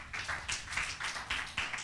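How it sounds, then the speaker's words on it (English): A small audience at a business and career expo claps in uneven bursts, several distinct pulses of hand-clapping at moderate volume, fairly close, with no speech. "Please, a round of applause for him once again"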